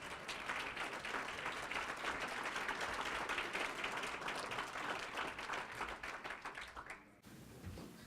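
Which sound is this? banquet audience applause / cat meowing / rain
banquet audience applause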